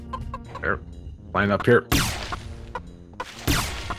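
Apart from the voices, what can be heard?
chicken clucking from the video game Heretic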